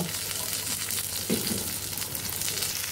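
Ridge gourd fritters frying in a pan of hot oil, with a steady close sizzle throughout and a brief scraping clatter midway as they are flipped over.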